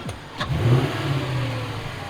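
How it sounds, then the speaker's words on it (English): A Mercedes W211 E55 AMG supercharged V8 revs up close and loud, a quick throttle blip climbing to a sustained high roar that holds steady before easing slightly. "Rev it!"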